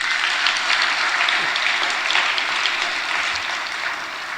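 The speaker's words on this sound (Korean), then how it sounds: "그 모든 분들에게 박수." A church congregation at Seonam Church applauds during a service, with dense, even clapping that stays fairly loud and steady for the whole stretch and no voices on top.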